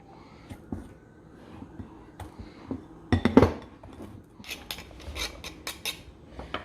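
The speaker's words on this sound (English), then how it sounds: "we're going to take a pastry cutter and we're going to cut that in" A metal pastry cutter works cold unsalted butter into flour and sugar in a bowl for banana muffins, giving scattered scraping clinks and taps with a louder cluster of metallic knocks near the middle, close and unaccompanied by talk.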